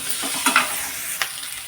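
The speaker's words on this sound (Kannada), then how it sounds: "ಇದರೊಳಗಡೆ ಇದು ಕೂಡ ಫ್ರೈ ಆಗಲಿ ಚೆನ್ನಾಗಿ. ಸ್ಲೋ ಉರಿಯಲ್ಲಿ ಫ್ರೈ ಮಾಡ್ಕೊಳ್ಳಿ." Byadgi chillies frying in a pan over a slow flame give a steady soft sizzle, broken by a few brief scraping stirs near the start and middle.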